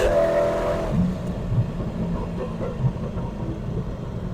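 A 1300hp turbo Corvette with a TH400 transmission accelerates in second gear, its engine rising in a loud droning rev that settles into a steady whir, heard from inside the car.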